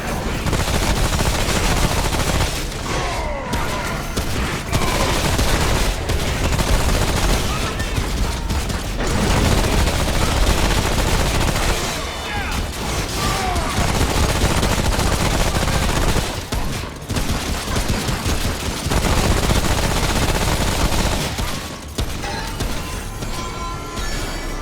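Gunfire in Remnant: From the Ashes comes as dense, loud bursts of repeated shots and blasts, nearly continuous with brief gaps, over heavy combat noise.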